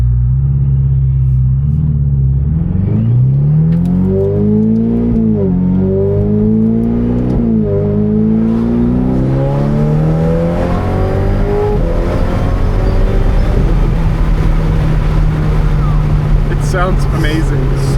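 Ferrari 488 Pista fitted with a Kline Inconel exhaust revs loudly and close by, its engine note rising and falling through several climbing sweeps before settling into a steady high drone.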